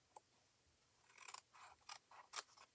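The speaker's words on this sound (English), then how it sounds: "I am just going to bring my scissors right here, cut that off." Scissors snip through paper close by in a series of quick, crisp cuts, faint at first and then grouped bursts, with no talking over them, during papercraft work on a gate fold card.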